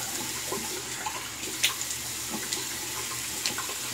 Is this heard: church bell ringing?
no